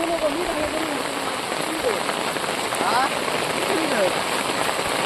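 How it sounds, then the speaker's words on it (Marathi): Heavy rain pours steadily outdoors in a Konkan village, a dense, loud, constant hiss of drops on surfaces, with faint voices in the background. "आता आपण जाऊया लवकर घरात कारण की पावसान केला ना जोर."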